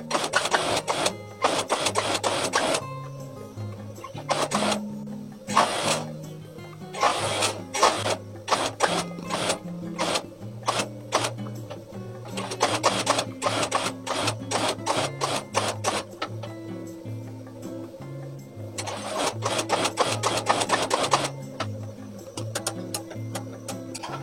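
A sewing machine stitches a jacket sleeve into its armhole, running close and loud in repeated rapid bursts separated by short pauses.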